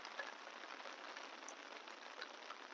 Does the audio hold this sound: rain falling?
yes